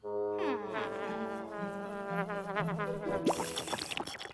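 A cartoon fly from a Polly Pocket show buzzes in sweeping, wavering whines that rise and fall, loud and close, ending in a brief louder flutter with no voices.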